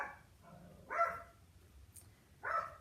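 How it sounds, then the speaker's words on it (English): Dogs barking indoors in a house, two short bursts a second or so apart, moderately close and fairly quiet against a low background hum. "Sorry, the dogs."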